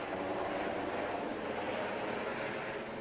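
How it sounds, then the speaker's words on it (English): A helicopter passes overhead near Sandy Beach as a steady, broad roar that holds at an even level throughout, with no distinct blade thumping and no talking. "Got a helicopter."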